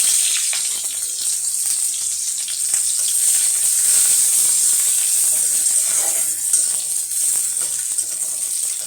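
Onion frying in hot oil for a fish curry, a loud, steady close-up sizzle with a bright hissing crackle that holds without a break for several seconds, no talking.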